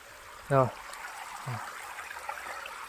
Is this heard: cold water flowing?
yes